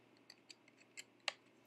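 Scissors snip small details from a paper card, several quiet, crisp cuts in an uneven rhythm, close and alone, the last snip sharper and louder.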